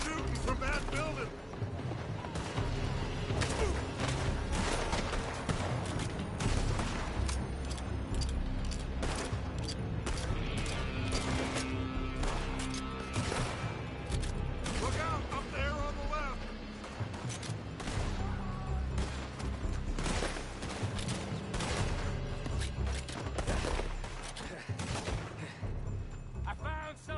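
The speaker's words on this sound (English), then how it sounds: "They're shooting from that building." Dense, sustained gunfire from a Red Dead Redemption II shootout rolls on without a break. Rapid shots and heavy booms come under loud talk and game noise.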